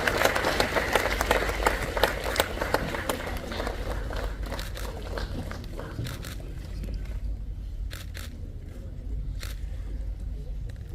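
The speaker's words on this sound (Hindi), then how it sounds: "जोरदार तालियां।" An audience claps at the inauguration of the Chinar Book Festival in Kashmir. The clapping is fairly loud at first, thins out over several seconds, and trails off into a few scattered, distant claps.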